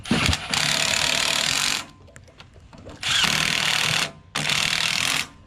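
A tool tightening carburetor bolts on a 24-inch Craftsman snowblower, heard as three loud, close, buzzing bursts of one to two seconds each, separated by quieter gaps with faint clicks and handling noises.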